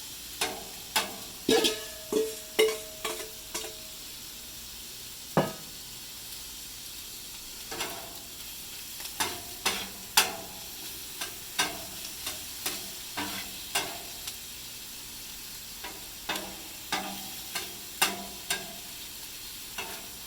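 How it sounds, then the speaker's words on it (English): Vegetables frying in a pan beside teriyaki chicken for fried rice, a soft steady sizzle broken by frequent sharp spatula scrapes and clacks against the pan, close and fairly quiet. "I'm going to go ahead and get the vegetables going right beside it"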